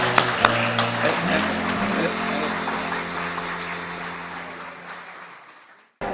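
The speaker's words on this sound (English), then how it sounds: "how about a round of applause for that?" Steady applause from an audience at a class reunion event fades gradually over several seconds, then cuts off abruptly near the end.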